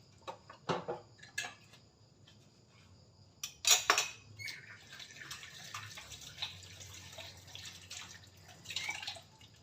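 Water trickles and drips from a tap while dishes clink and clatter faintly in a sink, with splashes in a quiet room.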